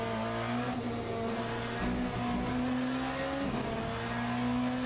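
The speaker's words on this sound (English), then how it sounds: "BMW is my favorite hypercar in LMU." A BMW hypercar races in Le Mans Ultimate, its engine droning loud and close with steady gear-shift steps and rising and falling revs, accompanied by faint tire noise and no talking.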